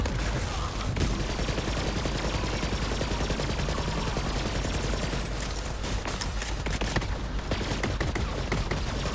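Zane's shoulder cannon in Borderlands 3 fires in a dense, continuous barrage of loud gunfire and blasts that fills the whole stretch, with layered game combat noise and no clear talk.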